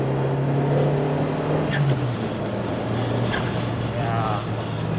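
Toyota Starlet Glanza V on the move, with steady engine drone and road rumble, a loud wash of wind buffeting, and a drop in engine tone partway through, with no voices.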